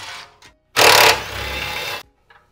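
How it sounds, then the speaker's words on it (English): A 13 mm socket on a power tool removes bumper bolts from a Ford Bronco, one close, loud whirring burst lasting just over a second between quiet moments with faint clicks. "I'm going to get a 13 millimeter socket to remove the 4 bolts behind here of the bumper"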